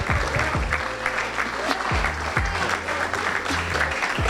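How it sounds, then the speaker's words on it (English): A crowd at a school sports signing event claps steadily, a dense patter of applause filling the whole stretch, with a few cheers mixed in. "I think that deserves a round of applause in itself."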